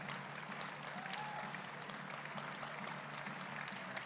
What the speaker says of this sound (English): So the more photos John takes, the more applause you get.